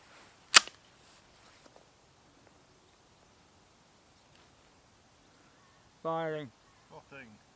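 One sharp, loud crack from a Mauser 25 straight-pull hunting rifle chambered in .308, fired outdoors, followed by a long quiet stretch and then a few brief words from a man.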